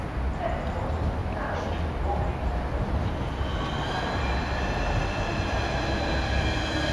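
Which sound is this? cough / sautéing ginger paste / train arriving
train arriving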